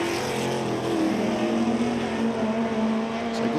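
Vintage racing car, a Lotus Cortina at the Goodwood Revival, flat out past the line: a loud, steady engine note with a rising tone held close for the whole moment, no voices.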